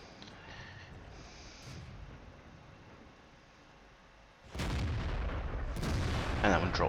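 Tank cannon fire in World of Tanks: a sustained low booming rumble of gunfire rises abruptly midway and stays loud, with bursts of broadband crackle on top, no talking.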